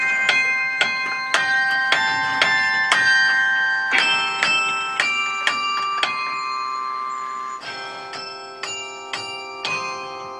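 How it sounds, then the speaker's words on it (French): A carillon rings out in a northern French town, its bells struck one after another in a clear melodic run with long ringing overtones, loud and close with no talk over it. "Le carillon continuera de chanter dans les villes du Nord."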